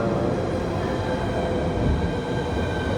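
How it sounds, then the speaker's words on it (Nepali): A train arriving at a station rumbles steadily with a dense, continuous roar and faint high metallic whine, loud and close, without any talking. "अहिले चाहिँ ट्रेन आइसकेको छ।"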